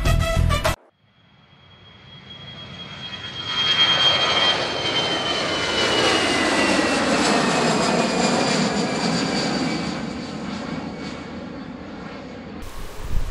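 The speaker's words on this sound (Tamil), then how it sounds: "எமிரேட்ஸ் ஏர்பஸ் A380 E41 விமானம் தனது சேவையை ஆப்பிரிக்காவில் முடித்துக்கொள்கிறது, மீண்டும் துபாய்க்கு செல்கிறது." An Emirates Airbus A380 airliner's engines swell from near silence into a loud, sustained roar with a thin high whine, holding steady for about ten seconds as the aircraft passes close by.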